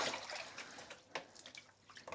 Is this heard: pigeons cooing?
no